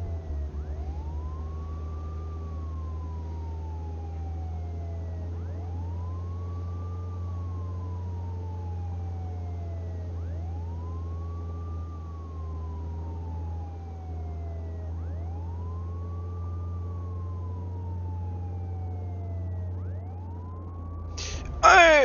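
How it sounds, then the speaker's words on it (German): Police siren in the video game Contraband Police, a slow rising-and-falling wail repeating about every five seconds over a steady low vehicle engine drone, ending with a sudden burst of other noise. "ich habe eine Sirene an."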